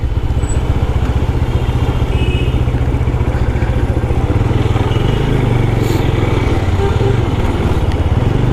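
A GPX Demon 250 motorcycle engine drones loudly and steadily close by while riding, with a low rhythmic thrum and a slight shift in pitch partway through.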